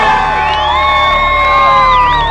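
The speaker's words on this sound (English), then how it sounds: "Cheering, blowing of horns, celebration." Outdoor crowd celebrating outside Ted Bundy's execution, loud sustained cheering and whooping with long rising and falling horn blasts and yells layered throughout, near and raucous.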